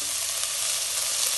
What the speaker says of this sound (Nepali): अब प्याज पनि मासुसितै खरिन्छ